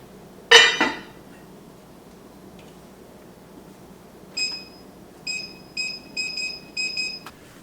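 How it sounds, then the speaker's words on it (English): A kitchen timer beeps in a home kitchen while soup simmers on low heat. A single clatter comes first, then a run of short, bright, evenly spaced beeps in quick bursts. "Okay, timer just went off."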